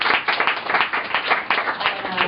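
A small bar audience at a Sunday night poetry slam breaks into brief, lively clapping, close and fairly steady for a couple of seconds.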